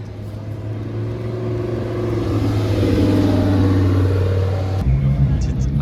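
A Mercedes-AMG GT R sports car's engine rises in a steady, loud rev and then drops off sharply, heard close by at an outdoor car gathering with a voice talking over it.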